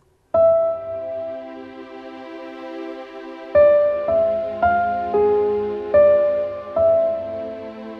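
A sustained piano background part plays, held chords shifting to new notes about every second after a brief quiet start, with no voices.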